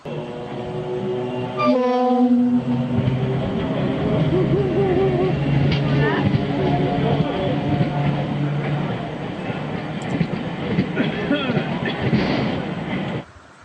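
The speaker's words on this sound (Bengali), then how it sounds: "দেখো ট্রেনে করে যাচ্ছি" A moving passenger train rumbles steadily from inside a carriage, with a loud horn or clanking burst near the start and a continuous rattle beneath faint talk.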